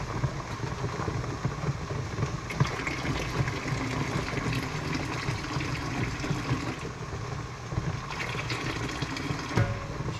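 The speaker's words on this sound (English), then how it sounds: "and then add the boiling water." Boiling water pours from a kettle into canning jars of carrots, a steady rushing splash that runs continuously for about ten seconds at close range, with no talking.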